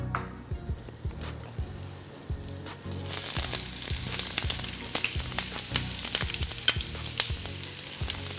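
Onions fry in a hot pan for yam and eggs, with a steady close sizzle, soft taps and scrapes, and a louder burst of crackling after about three seconds.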